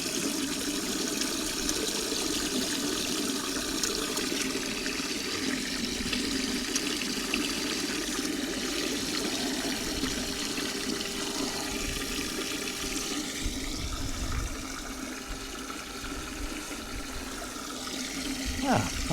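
Air bubbling through water in a homemade live bait tank makes a steady, loud, continuous fizzing rush with no pauses.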